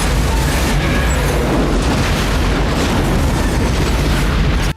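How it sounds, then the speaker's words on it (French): A massive explosion from a Steven Seagal action film, a loud sustained roar of blast and rumble filling the whole stretch with no pause. "je vous demande de noter la puissance de l'explosion"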